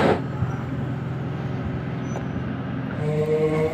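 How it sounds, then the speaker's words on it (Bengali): A passenger train on the Digha line rolls past a station with a steady low rumble and clatter, a brief tonal hum rising near the end. "আর ট্রেন এখন দীঘায় চলে যাচ্ছে,"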